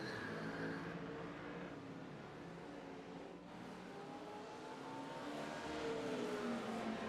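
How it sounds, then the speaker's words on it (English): On the Sebring circuit an LMP2 prototype race car sweeps past with a distant, rising and falling engine whine, faint and continuous under a race-broadcast wash of background noise. "another GTP goes by. Or excuse me, that's the LMP2"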